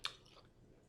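A brief, close crunchy bite and chew of beef and vegetable stir fry with still-crisp veggies, one sharp crunch followed by soft, quiet chewing.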